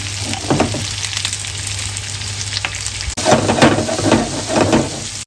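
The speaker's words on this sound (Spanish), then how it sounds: "le vamos a echar ya los champiñones y también los espárragos." Mushrooms and asparagus sizzle in a pan over moderate heat for teriyaki chicken with almonds, with a steady frying hiss, scattered stirring scrapes and a louder burst of sizzling and clatter in the second half.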